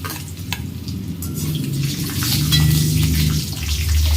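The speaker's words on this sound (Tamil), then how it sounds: "நல்லா எண்ணெயிலே வதக்கிக்கலாம்" Whole spices such as cinnamon, cloves, star anise, bay leaf and cardamom frying in oil for country chicken soup: close, continuous crackling sizzle that grows a little louder, with faint stirring and no talking.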